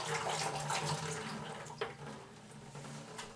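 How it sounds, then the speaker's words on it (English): Water draining from a cut household water pipe line during a plumbing fix in a home renovation, a steady faint rushing and splashing flow with a small splash partway through. "While that one drips"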